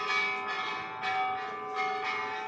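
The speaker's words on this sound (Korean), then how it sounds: "평화를 염원하는 종소리는 계속 울려 퍼진다" A large Japanese peace bell, struck for world peace, rings with a sustained metallic tone that hums on and swells in gentle repeated pulses, heard alone and fairly clear.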